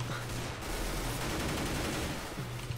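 Rapid bursts of rifle fire from a CS:GO gun game match, a dense continuous fusillade of shots lasting a few seconds, loud and up close.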